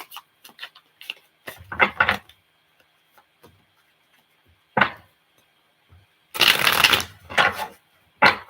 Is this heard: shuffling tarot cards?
yes